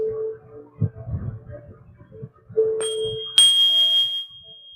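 A single bell is struck during a breathing meditation, its clear tone ringing out and sustaining after soft, low murmuring sounds.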